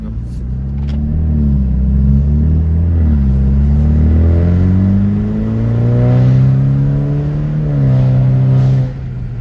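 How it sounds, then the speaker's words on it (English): Car with a raspy, metallic exhaust and no resonator accelerates hard nearby, its engine note rising and falling through several gear changes, loud and rough throughout. "it's real raspy and real metallic-y at higher RPM. It's because I'm also not running a resonator, so it's just a straight sound through it."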